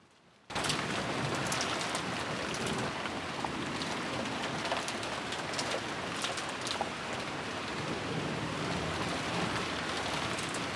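Steady rain in the Umineko visual novel, a dense, even downpour that starts abruptly and keeps up a constant hiss with scattered drop patter throughout, with no talk over it.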